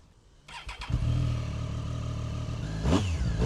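A motorcycle being test ridden after a crash, with its right fairing removed. The engine catches and settles into a steady running note, then revs up sharply near the end, close by and with no speech.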